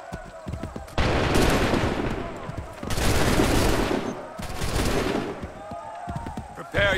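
Musket volleys in the Assassin's Creed 3 video game, fired in the George Washington battle mission: loud, crackling massed fusillades roll out in three long bursts, with quieter gaps between them.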